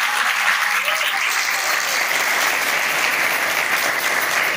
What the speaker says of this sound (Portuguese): Queria pedir uma salva de palmas para esse público.